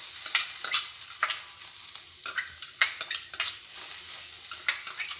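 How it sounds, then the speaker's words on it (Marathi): Freshly grated coconut being stirred and sautéed in a pan with a spoon, soft sizzling under repeated scraping and clinking strokes in an irregular rhythm, close and fairly quiet. "हा कीस चांगला परतून घ्यायचा"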